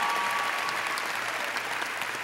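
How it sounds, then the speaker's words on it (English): A crowd of graduating high school seniors at a college signing day event claps in a brief, steady burst of dense applause. "let's just take a moment to give yourselves a round of applause to the San Antonio class of 2014"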